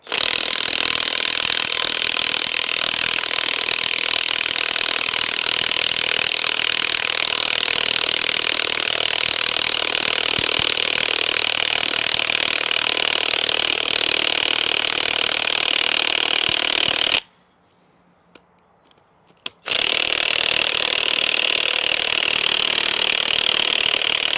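A Dewalt DCF899 high-torque impact wrench drives a fastener into a log, giving a loud, continuous rattling hammer with a brief pause near the end before it resumes.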